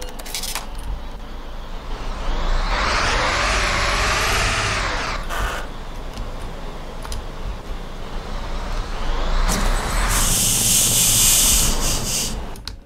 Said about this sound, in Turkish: amortisör seslerine bayıldım abi